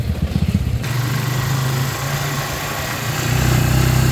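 A motorcycle engine runs close up, starting with a few uneven chugs and then settling into a steady idle. It grows louder and rougher near the end as it revs.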